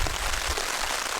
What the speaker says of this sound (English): it started raining very early hours of the morning